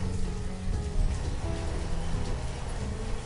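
Steady rainfall pours over villagers in the city-building video game Banished, a continuous, even hiss of rain with no voices or other distinct events.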